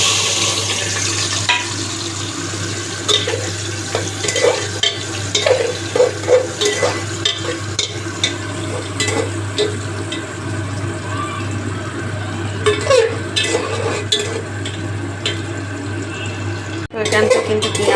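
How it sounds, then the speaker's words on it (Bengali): Onions fry in a pot with bay leaf and cardamom, a loud close sizzle with stirring scrapes and a constant low hum in the background. "পেঁয়াজটা ভাজা হচ্ছে"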